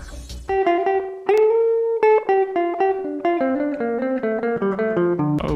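An electric guitar picked note by note through a delay effect plays a short melodic phrase, with distinct plucked attacks that ring and overlap, close and clear without talk.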